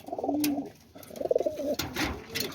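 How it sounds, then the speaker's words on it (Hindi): Teddy pigeons coo in soft, throaty bursts close by, several rolling calls with brief pauses between them. "दोस्तों ये जनाब चौसा वाले 10 नंबर कबूतर हैं"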